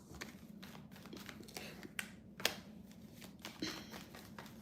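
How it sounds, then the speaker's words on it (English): Tarot cards are shuffled by hand at close range, giving soft repeated riffling and slapping bursts with a few sharper card snaps, heard without talk. "So I'm going to keep shuffling because I didn't like that."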